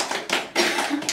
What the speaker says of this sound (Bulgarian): Аплодисменти за Виктория.